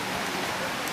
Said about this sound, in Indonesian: itu masih hujan.